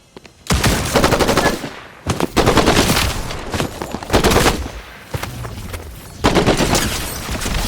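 Rapid automatic gunfire in a battle royale video game, loud bursts of sustained shooting separated by short pauses, with no talking over it.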